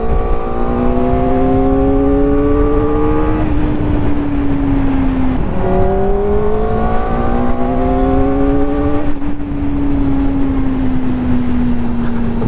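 A Kawasaki ZX4RR sport motorcycle's high-revving engine while riding, climbing in pitch through the gears with two distinct shift drops, loud and close over steady wind rush.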